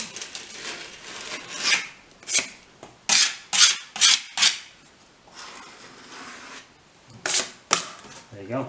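Filler pushed into old plaster with a tool: close, irregular scraping and rasping strokes in short bursts, some in quick clusters, separated by quieter pauses.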